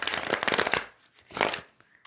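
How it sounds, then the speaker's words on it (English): Tarot cards are shuffled by hand in two quick bursts of crisp riffling and flicking, close and clear, with short pauses between and no talk. "So I have shuffled extensively off camera and, as you saw, on camera."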